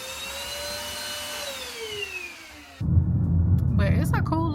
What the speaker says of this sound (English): But it's a cool little vacuum cleaner.